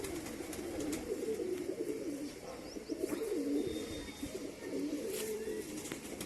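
Domestic pigeons coo in a loft, low throaty coos repeating in a steady rhythm close by, with a few faint chirps and light rustling behind them.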